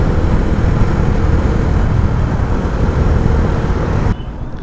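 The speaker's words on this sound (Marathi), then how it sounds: "समोर ट्रॅफिक जाम आहे." Dense, continuous road rumble from a stalled traffic jam, heard from a motorbike, with engines and vehicle noise blending into a loud, steady wash that drops away near the end.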